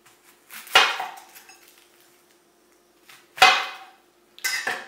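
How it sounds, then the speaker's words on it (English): Knife chopping an onion into quarters on a cutting board, three sharp knocks of the blade hitting the board, each with a short ringing tail, spaced apart with quiet between them. "we're just going to cut up our onion here. We're going to quarter it"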